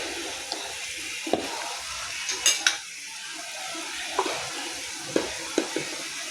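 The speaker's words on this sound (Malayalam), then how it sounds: "നന്നായിട്ട് വഴറ്റുക" Ginger, green chilli and turmeric, chilli and garam masala powders are sautéed in a pan, giving a soft steady sizzle with a few brief clinks and scrapes of a spoon stirring against the metal.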